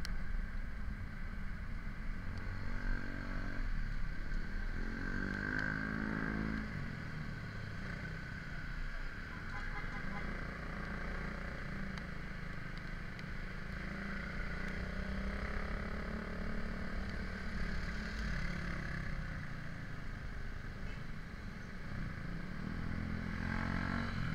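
Motorcycle and car engines idle and rev in slow traffic, a continuous mechanical drone with occasional passing whines and clatter.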